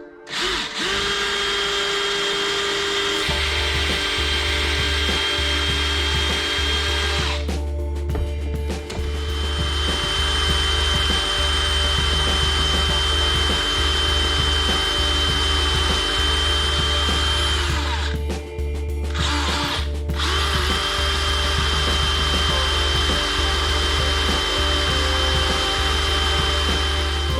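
A small power drill with a small bit whines steadily at high pitch drilling a brass rod, close and loud, with a constant motor hum and brief pauses where it stops and restarts.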